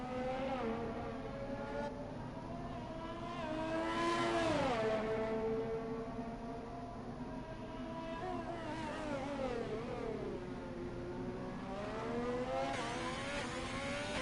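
F1 race car engine in a racing video game during a lap, whining steadily with rising and falling revs as it upshifts and brakes, continuous and mid-level without any talk.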